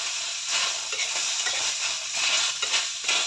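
Tomatoes dry-roast on a hot griddle with no oil for a Marathi urad dal recipe, producing a continuous close sizzle and hiss broken by soft scraping and stirring sounds.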